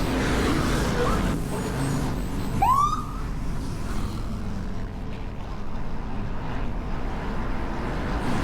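A police car escorting a group bicycle ride in Summerlin, Las Vegas, gives a short, rising siren whoop that stands out briefly over steady road and wind noise, then fades away.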